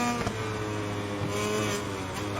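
Racing motorcycle engine in MotoGP 21 on PS5, Finnish GP career race, droning steadily at high revs for the whole stretch with a constant hum and no talk.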